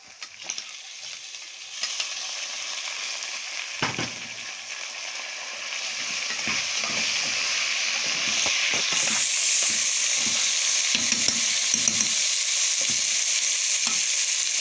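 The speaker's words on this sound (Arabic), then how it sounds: "انا شوحت الرز بالشعريه اهو" Rice with vermicelli sautéed in a pan gives steady hissing sizzle with intermittent scraping stir strokes, close and moderately loud, intensifying partway through; no talking.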